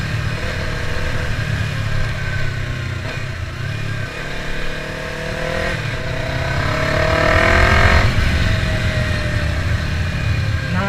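A Yamaha R3 sport motorcycle's engine revs repeatedly during a wheelie attempt, loud and close, its pitch climbing and dropping through several throttle blips before a stronger sustained rev near the end.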